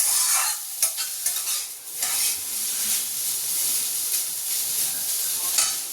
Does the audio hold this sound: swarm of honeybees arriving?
no